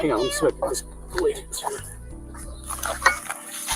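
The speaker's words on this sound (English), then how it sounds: "But do you hear the kitten?" A small kitten, apparently trapped under a manhole, mews in thin, high cries at the start, while people talk nearby and a low rumbling hum runs beneath.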